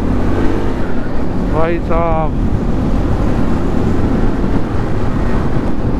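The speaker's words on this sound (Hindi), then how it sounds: "और साउंड कितना मस्त आ रहा है अपनी बाइक्स का यार।" Motorcycle engines roar steadily inside a long road tunnel near Chenani, Jammu and Kashmir, with echo, wind buffeting the microphone and someone briefly speaking over the noise.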